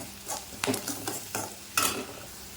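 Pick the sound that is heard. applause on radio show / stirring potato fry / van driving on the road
stirring potato fry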